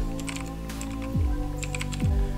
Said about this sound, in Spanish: para loguearnos escribimos admin y admin